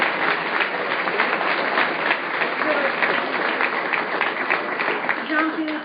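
Audience applause at a film premiere during a panel discussion, a steady, dense wash of clapping filling the room for several seconds with a few voices audible beneath it.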